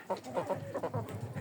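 Hens in a backyard flock cluck softly in quick, repeated bursts, a steady, fairly faint chatter of several short calls close by.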